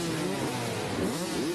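Motocross motorcycles idle and rev together at the starting gate, a dense, steady engine drone with wavering pitch swells, heard at a moderate distance without talk.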